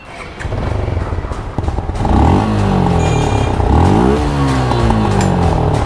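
Suzuki Gixxer motorcycle fitted with a modified stock exhaust, revving loudly and close by in rising and falling throttle blips, with some mechanical clatter.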